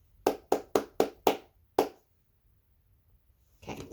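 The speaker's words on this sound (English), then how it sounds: "I'm not going to say it this time, I'm just going to clap it." Six sharp hand claps ring out in a quick, even rhythm, followed by a longer pause before a final clap, then near silence with a faint rustle at the end.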